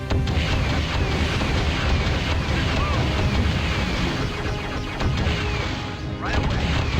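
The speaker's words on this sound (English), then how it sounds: "Love the sound of exploding buildings." Continuous crashing, rumbling blasts as buildings are blown apart in the real-time strategy game Dark Reign, a loud dense roar of destruction with a voice speaking beneath it.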